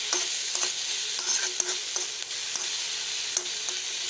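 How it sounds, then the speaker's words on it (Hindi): Vegetables sizzling in a pan with salt and turmeric, a steady bright frying hiss with occasional light stirring clicks, close and alone without talk. "थोड़ा सा फ्राई होंगे, उसके बाद हम मैगी डाल देंगे इसके अंदर"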